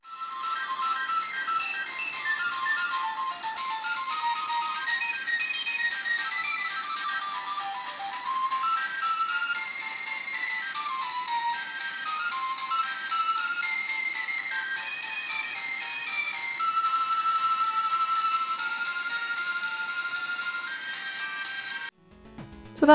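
A melodic, tinny electronic tune plays through the new replacement speaker of a Miyoo Mini Plus handheld for about twenty seconds, then stops abruptly with a short click.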